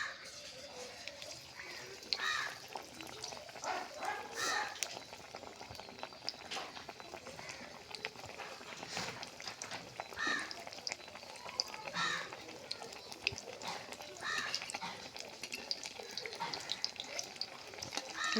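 Egg-coated pitha frying in hot oil, a soft continuous sizzle and crackle at low level, with a voice talking intermittently over it.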